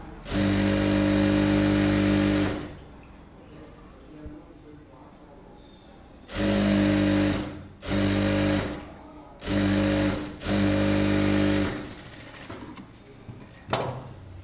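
Sewing machine stitching a folded two-inch sleeve hem on a close-neck blouse, running in several loud bursts of steady whirring separated by pauses, with a short sharp knock near the end.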